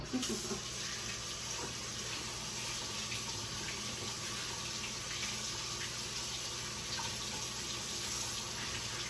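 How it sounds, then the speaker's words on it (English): Tap water runs steadily into a kitchen sink while hands are rinsed under it, a constant close splashing hiss with no talking. "wash my monster hands off again"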